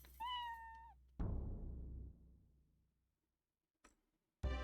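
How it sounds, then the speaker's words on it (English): A cat meows in the video game InuYasha: The Cursed Mask, one clear drawn-out call followed by a sharp game effect that rings out and fades, then brief clicks in near silence. "Save cat."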